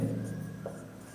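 A pen scratches across paper while a Class 10 maths exercise on circle radii is worked out, producing a steady, soft, close-up scraping with no one speaking.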